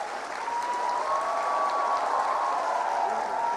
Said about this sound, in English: Let's have a bigger round of applause.